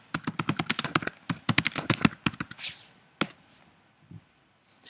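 Rapid bursts of typing on a computer keyboard, crisp close key taps in quick runs followed by a few isolated clicks and then quiet.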